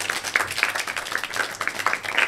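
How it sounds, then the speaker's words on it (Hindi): Applause from an audience at a school event, a short burst of scattered hand claps at moderate volume with no talk over it. "तालियां इनके लिए।"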